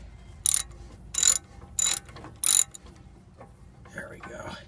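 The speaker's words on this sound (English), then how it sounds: "I had to use a breaker bar to kind of break the initial bond so that way the ratchet could do its job" A ratchet loosens a bolt during a brake rotor replacement on a Trailblazer or GMC Envoy 5.3L: four quick, close, clicking ratchet bursts in an even rhythm, followed by quiet shuffling and a short stretch of speech.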